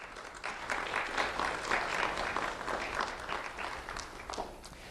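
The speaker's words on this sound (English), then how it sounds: "let's have a round of applause for the school board and Dr." Steady applause at a school recognition ceremony honoring the school board, a distant, roomy wash of many hands clapping at an even level for a few seconds without speech.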